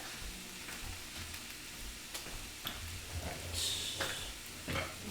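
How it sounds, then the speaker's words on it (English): Onions sizzle and fry in a pan while being stirred, a steady crackling hiss broken by scraping stir strokes and small taps, close and moderately loud with no talking. "Stir up these onions a little bit."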